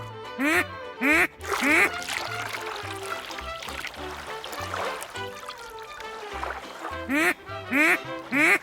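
Repeated loud quacks from a toy duck come in short bursts at the start and again near the end, with trickling water poured into a sand play set and other playful sounds between them.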